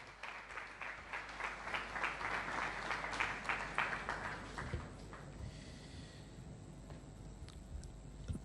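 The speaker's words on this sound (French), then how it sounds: "Sous vos applaudissements, s'il vous plaît." Faint, distant audience applause at a formal ceremony with a First Lady present, a dense patter that swells for several seconds then fades into a low murmur.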